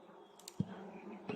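Honeybees hum faintly around their hive, a soft, steady drone with a couple of brief louder passes, alone and without voices.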